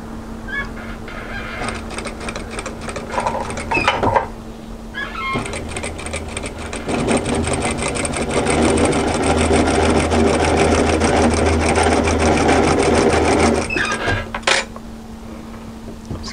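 A sewing machine stitches a peplum camisole top in loud, steady runs, starting and stopping in short bursts before one long continuous stretch, then a few brief stitches at the end.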